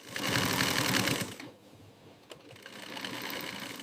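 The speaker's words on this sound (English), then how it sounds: "The multi-process flow involves various stitching tasks." An industrial sewing machine stitches frog leather in a luxury exotic-skin factory, running in a fast, loud mechanical chatter, pausing briefly with a single click, then resuming its rapid stitching.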